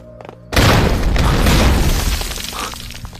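A time bomb goes off in a dramatic scene: after a brief quiet, a sudden loud blast erupts and rolls into a sustained roaring rumble of debris and shattering that slowly fades.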